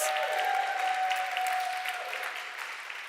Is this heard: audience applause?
yes